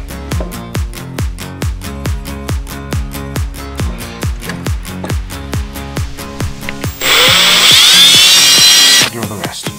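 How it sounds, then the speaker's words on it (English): A power drill works through a shifter plate for a Can-Am Maverick X3 in a steady series of short, loud revving bursts, about two per second, then one sustained high-pitched grinding stretch, close up with no talk. "I wish I would have got the smaller drill."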